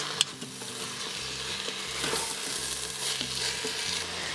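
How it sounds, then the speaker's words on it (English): Marinated beef is stirred in an Instant Pot and sizzles steadily, with a scrape from the spoon, a sharp clink at the start and constant crackling frying close by. "Now add the marinated beef. So give it a good mix."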